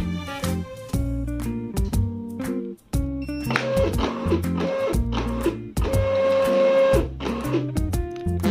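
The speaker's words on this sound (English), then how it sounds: "You can also hold the feed button to calibrate the paper" A MUNBYN RealWriter 941 label printer feeds paper to calibrate, giving a close, steady mechanical whirring and clicking with shifting motor pitches and a short break partway through.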